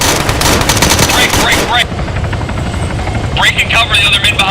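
A helicopter's rotor thumps loudly and close as it lands on a road in a winter war game. Bursts of machine-gun fire and scattered gunshots cut in over it, and voices shout amid the noise.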